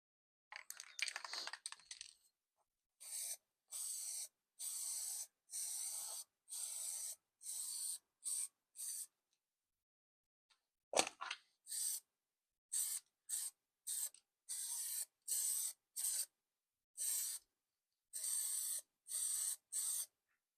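Spray painting of Benelli BN125 motorcycle parts during a rust restoration: about sixteen short, hissing spray bursts, each a second or less, separated by brief pauses, close and fairly steady with no talking.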